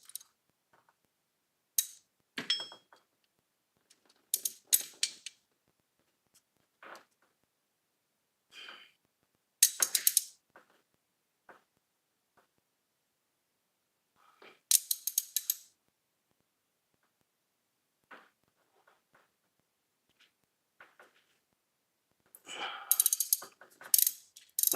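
Hand ratchet working triple-square bolts off the supercharger idler pulley of a 2014 Audi Q7 3.0T, heard as short bursts of quick clicking scattered between pauses, close and fairly quiet.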